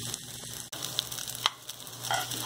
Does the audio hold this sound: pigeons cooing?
no